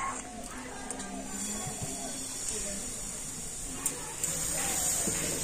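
Flour batter for an egg paratha sizzles in an oiled frying pan, a steady bright hiss that swells slightly near the end, with a voice faintly present in the background.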